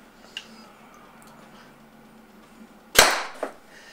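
A sharp, loud pop of a Tippmann TCR paintball marker with a high-power tune firing near the end, followed by a quicker second crack, after a few seconds of quiet room tone.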